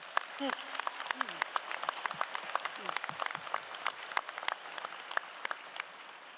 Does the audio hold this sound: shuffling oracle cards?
no